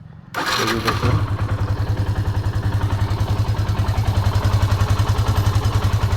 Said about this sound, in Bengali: ইঞ্জিনের সাউন্ডের অবস্থা খুবই সুন্দর এখন পর্যন্ত সুন্দর আছে